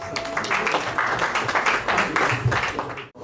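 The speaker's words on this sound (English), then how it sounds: "Please a big round of applause for him." Audience applause at an investiture ceremony for a branch chairman and executive committee, a fairly close mix of clapping hands and crowd noise that stays lively before cutting off abruptly near the end.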